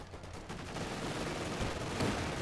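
Rapid autocannon fire from an AA half-track in the Company of Heroes 2 strategy game, a dense continuous burst of shots running the whole time at steady moderate loudness, with no talk over it.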